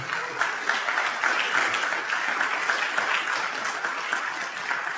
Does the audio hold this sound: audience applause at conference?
yes